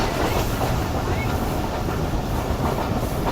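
The Rehman Baba Express rumbles along the tracks toward Tando Adam, a continuous heavy rolling roar with faint clickety-clack from the carriage wheels, heard from inside a swaying coach.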